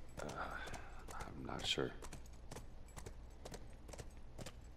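A horse in The Last of Us Remastered walks with slow, steady clip-clop hooves, evenly spaced and moderately close, while a person briefly speaks over them.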